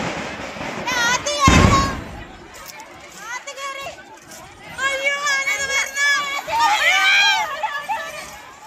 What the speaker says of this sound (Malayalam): ക്ഷേത്രത്തിന് സമീപം തുടർച്ചയായി കരിമരുന്ന് പ്രയോഗം നടക്കുന്നത് വ്യക്തമാണ്